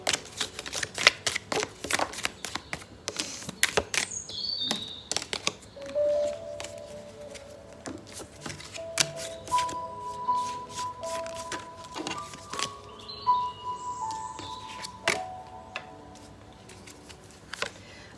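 Tarot cards are shuffled and riffled in quick, irregular bursts of papery flicks and taps, close up, with faint high tones in the background.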